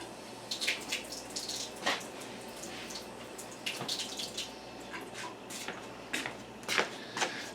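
Two tablespoons of water are poured into a pie dough of flour and butter, making faint, soft splashes and trickles in short irregular bursts over quiet room tone.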